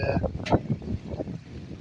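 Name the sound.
strong wind blowing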